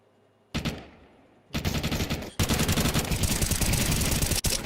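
Rifle fire from the video game Counter-Strike 2 during a tournament match comes in loud, rapid bursts. A single shot is followed by two long sustained volleys with almost no pause between them.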